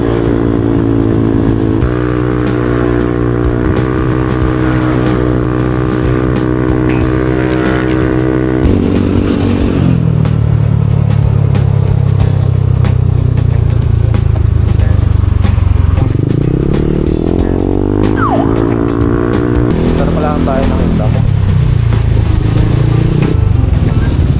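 A motorcycle engine runs steadily up close on a trip to Tagaytay, its loud drone shifting pitch as it slows and picks up again over the whole stretch, with no talk.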